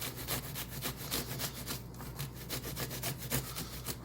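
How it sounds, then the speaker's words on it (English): Fresh ginger being grated for a marinade, a continuous close scraping with quick regular rasps, a steady rhythmic back-and-forth at moderate volume and no one talking. "Just going to grate enough of this up to release the flavors,"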